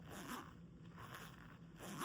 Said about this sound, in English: It's got the zipper here, which again, Listen to the sound of that zipper.